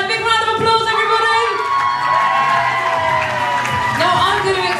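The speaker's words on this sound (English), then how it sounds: "big round of applause, everybody" An audience at a 2019 Strictly Come Dancing-style dance show at Reighton Sands cheers, whoops and shouts loudly and continuously, with children's voices prominent in a dense, close crowd roar; any clapping is hard to pick out.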